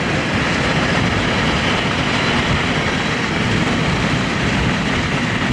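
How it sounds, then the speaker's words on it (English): A long, empty northbound coal train rumbles steadily past close by, a continuous broad roar of wheels and cars with no letup. "we have a northbound empty coal train"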